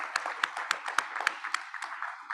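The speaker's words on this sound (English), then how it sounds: "So a round of applause for all of you." Sparse, quiet clapping from a small group at a board of directors meeting, a handful of distinct claps spaced evenly that fade out after about two seconds.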